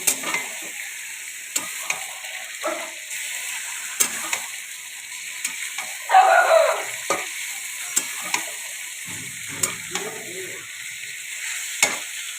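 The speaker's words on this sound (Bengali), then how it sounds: "একসঙ্গে আমি পেঁয়াজের সঙ্গে ফ্রাই করে নেব" Chicken seasoned with salt and turmeric frying together with onions in hot oil, giving a steady close sizzle broken by repeated scraping stirs, with no talking.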